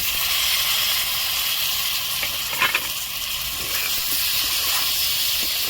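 Tomatoes frying in a pan with cooked ground spices make a loud, even hiss and sizzle, broken briefly by a few stirring scrapes, with no talking.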